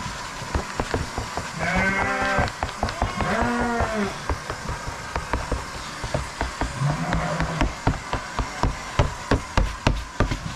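Sheep bleat several times in a barn at feeding time, loud and close, over constant rustling and a steady run of sharp knocks and clatters that grow more prominent toward the end.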